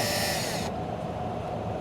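A power drill drills out a broken EGR bolt on a Ford 6.7 diesel, whining at high speed, then the pitch drops abruptly as it keeps grinding loudly, close up.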